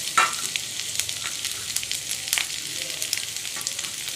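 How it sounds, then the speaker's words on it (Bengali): Chopped onion and green chillies sizzle steadily in hot oil for chow mein, a close, continuous crackling fry with no talk over it. "এবার এগুলো ভালো করে লাল লাল করে ভেজে নেব।"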